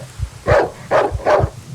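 A dog in the survival horror game Darkwood barks three times in a quick, evenly spaced series, loud and close, with faint footsteps and rustling beneath.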